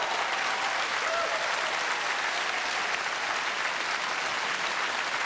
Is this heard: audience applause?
yes